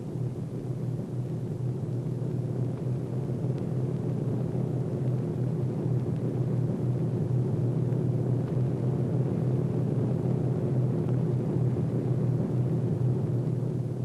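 A WWII transport plane drones steadily overhead on a supply-drop run, a continuous low engine rumble holding at even loudness throughout with no voices.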